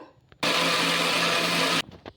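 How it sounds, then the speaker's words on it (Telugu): A mixer grinder grinding fresh coconut with no water, one loud whirring burst of about a second and a half that starts and stops abruptly, with faint handling sounds around it. "ఇంకా ఇప్పుడు మిక్సీ పట్టేసుకుందాం నీళ్లు వేసుకోకుండా పట్టుకుందాము"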